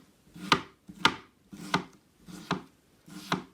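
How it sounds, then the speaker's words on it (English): A freshly sharpened kitchen knife slicing a strawberry into thin slices, with five distinct close cuts evenly spaced, each a crisp slicing tap ending on the board, with no talk. "Cutting nice thin slices."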